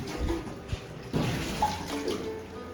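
Water splashes and runs as a pouch is washed with Surf detergent at a thrift business in Azad Market, Delhi, with bursts of sloshing and handling noise.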